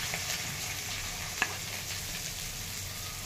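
Onion and green chillies sizzle in a pan over ginger and garlic already sautéed for corn fried rice: a soft, steady frying hiss with one small click partway through.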